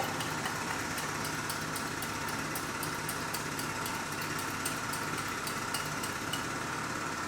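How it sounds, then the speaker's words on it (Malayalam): Construction machinery drones faintly and continuously in the distance, with light regular ticking over the steady hum. "കൺസ്ട്രക്ഷൻ നടക്കുകയാണ്. എന്നത്തെ മാതിരി തന്നെ ഉണ്ട്,"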